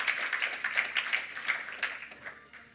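A church congregation applauding together, a steady wash of many hands clapping for almost three seconds that fades out toward the end, with no voices on top.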